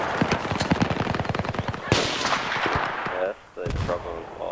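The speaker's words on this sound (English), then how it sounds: "was getting shot at, or at least suppressed." Rapid bursts of automatic gunfire in the Battlefield 3 Operation Metro rush round, loud and close, a dense rattling string of shots followed by a sharp blast and a few more scattered reports.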